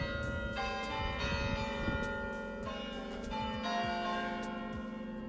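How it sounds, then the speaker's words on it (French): Bells of the Saint-Jean-Baptiste church in Megève, with its nineteenth-century onion-domed bell tower, ringing in repeated overlapping strikes whose tones hang on, heard alone at moderate distance. "On a entendu les cloches de l'église Saint-Jean-Baptiste."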